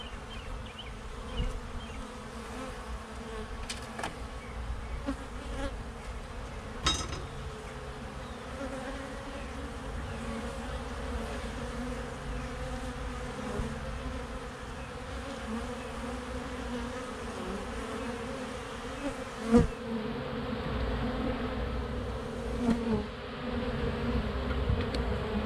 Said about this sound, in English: these bees seem pretty gentle, so it's definitely worth saving